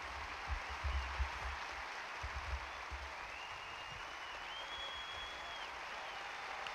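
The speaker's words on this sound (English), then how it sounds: "So a tremendous hand for the champion of the past 2 years" A crowd at the 1995 Cincinnati tennis final applauds the champion, steady distant clapping and faint cheering spread wide across a large venue, with a few low thumps up close.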